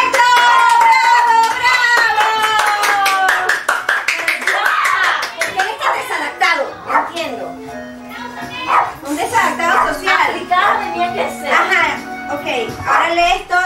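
Children clap their hands in a classroom, a dense burst of rapid applause fading into scattered claps, with kids' voices and an adult talking over it.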